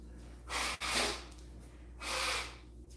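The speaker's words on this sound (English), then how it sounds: "Start by blowing my nose." A person blows their nose twice in close succession, two broad, breathy bursts of airy noise, close and fairly loud, separated by a short sharp sniff, with no talking.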